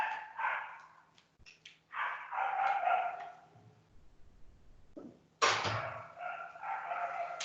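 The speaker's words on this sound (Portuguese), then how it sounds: "esse cachorro tinha que vir latir aqui logo agora." A dog barks repeatedly near a home, loud harsh barks arriving in several clustered bursts separated by short pauses, with a strong fresh burst after a brief lull.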